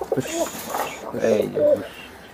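Budapest and Giribaz pigeons cooing close by at a pigeon farm, soft throaty coos rising and falling in several bursts, with a voice talking nearby.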